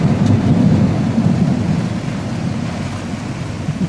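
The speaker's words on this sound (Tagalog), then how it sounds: "napakalakas ng ulan mga ka-amigo" Heavy downpour over a flooding street in Makati, Manila, a loud, dense roar of rain with deep rumbling thunder rolling through it, strongest at first and easing slightly, with no voices.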